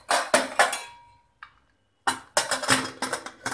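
A pressure cooker lid is fitted onto a pot of simmering dal dhokli, giving a few sharp metallic clanks and scrapes, then a short gap of near silence, then another run of clattering metal contact.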